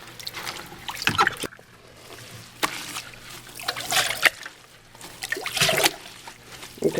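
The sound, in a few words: hand squeezing beeswax in warm water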